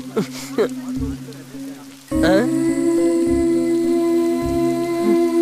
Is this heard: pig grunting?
no